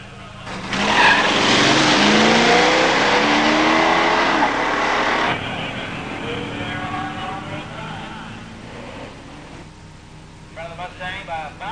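Two automatic drag cars, a 1972 Dodge Demon 340 and a 1968 Mustang 289, launch with a loud roaring blast that holds for several seconds, then fades into distant engine noise as they run away down the strip.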